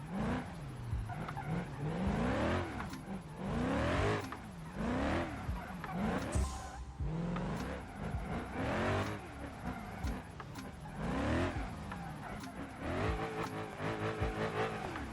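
Game car on a pro drift tune sliding through a drift event, engine rising and falling in repeated surges with skidding tire squeal, moderately loud and steady, without talk.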